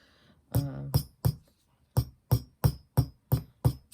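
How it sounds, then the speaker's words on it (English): A rubber mallet strikes a wire bracelet resting on a metal bench block, giving about ten sharp, close taps, first a few uneven blows and then a steady, evenly spaced run. "bench block and hammer it with your rubber mallet"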